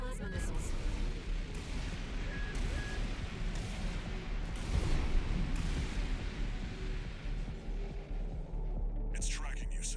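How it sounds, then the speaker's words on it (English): Plasma missiles in the mech combat game Armored Core 6 boom and rumble continuously with repeated bursts and explosive thuds, loud and dense throughout, and a voice talks over part of it. "Watch out for those plasma missiles."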